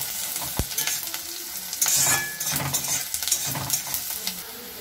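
Cardamom pods and bay leaf frying in oil in a pan while being stirred, producing a bright close sizzle with short scraping strokes and one sharp knock near the start.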